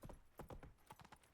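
Horse hooves clip-clopping in The Witcher 3, a steady run of distinct close hoof beats at a trot, with no talking over them.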